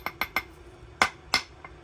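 A metal socket is tapped to press a reinforced valve flush into a BMW E46 oil filter housing. About six sharp, close metallic knocks come in two quick groups.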